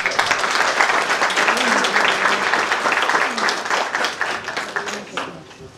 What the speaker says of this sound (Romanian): Așa că chiar merită aplaudat.